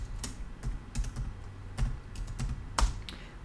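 Typing on a computer keyboard, a series of quick, close key clicks at an irregular pace over a low steady background hum, with no talking.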